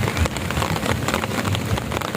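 Steady rain pours at a raw beach campsite in Palauig, Zambales, a dense, even hiss of drops pattering on surfaces, close and loud throughout with no voices.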